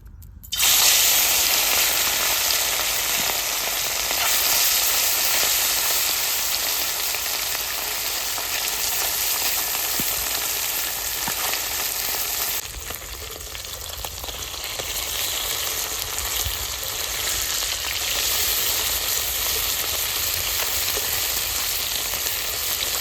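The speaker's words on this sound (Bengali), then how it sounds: "তেল গরম হয়ে গেছে এখন ছোট মাছগুলো ভেজে নেবো" Small river fish (chela) frying in hot oil, a loud, dense, continuous sizzle that starts abruptly and holds steady close by, dipping briefly midway, with no talking.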